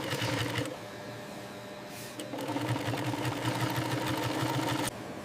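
An industrial sewing machine stitches leather in a leather goods factory, a loud, steady mechanical whir and rapid needle chatter running continuously, with a brief dip and change in pitch partway through.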